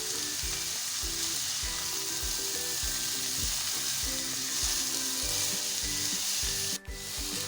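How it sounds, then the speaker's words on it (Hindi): Shredded cabbage stir-frying in a hot wok for restaurant-style chicken vegetable fried rice: a constant loud sizzle broken by quick rhythmic spatula tosses and scrapes, with one brief dip near the end. "अब हम इसमें ऐड कर देंगे बंद गोभी। इसको भी हम अच्छे से फ्राई कर लेंगे।"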